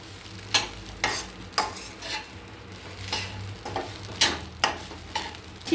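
Freshly grated coconut is stirred and roasted in a thick-bottomed round kadhai over low gas, a soft sizzle broken by regular scraping strokes of the spoon, about two each second, close and quiet.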